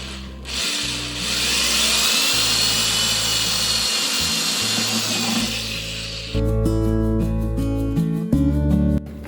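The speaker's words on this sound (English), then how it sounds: "So to do that, I'm going to use a drill." A power drill whirs steadily for several seconds while drilling holes in a pumpkin, then the pitch shifts as it bites in, with brief pauses and a louder grinding burst near the end.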